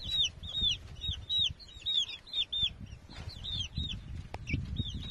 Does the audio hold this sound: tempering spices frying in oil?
no